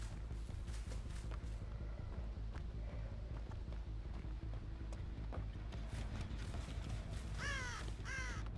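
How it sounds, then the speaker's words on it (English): A crow caws in Dead by Daylight, a few harsh, quick calls near the end over a constant low game ambience and scattered faint footfalls, moderately loud. "hoping that he scares a crow somewhere"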